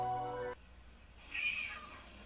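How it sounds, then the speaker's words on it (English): A cat crying at a door at midnight, a single drawn-out meow in the middle of the clip, moderately close, after a brief harmonic tone that stops suddenly. "Yeah, it's a cat crying."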